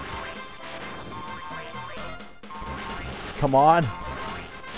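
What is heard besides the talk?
smashing down doors in Dragon Quest Heroes: Rocket Slime video game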